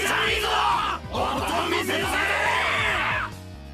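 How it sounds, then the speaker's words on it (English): A festival crowd cheers and yells wildly in the Higurashi video game at the Watanagashi Festival. The loud, sustained roar of voices runs almost the whole time, with a tonal musical layer underneath. "The crowd went wild when they saw our conversation."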